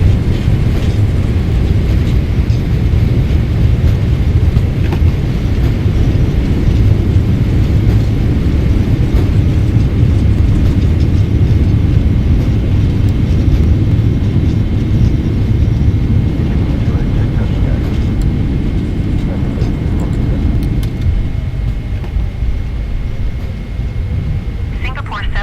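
A Boeing 777-300ER rolls out after landing at Portland airport, a loud, steady low rumble and roar of engines and wheels heard from inside the cabin that eases off toward the end.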